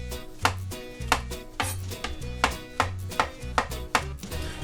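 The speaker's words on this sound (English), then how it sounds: "So I'm going to start by just slicing up my mushrooms." A knife slices mushrooms thinly on a cutting board for chicken Marsala, each cut a sharp, close chop in a steady rhythm of about two strokes per second, with no talk.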